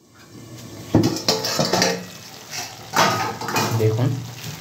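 A pot lid comes off a pan of watermelon rind curry, metal clattering and scraping against cookware in a few sharp knocks, with a voice talking over the kitchen noise.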